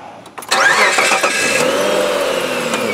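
A used car with a junkyard replacement motor cranks briefly, catches and starts, then settles into a steady, fairly loud running idle close by.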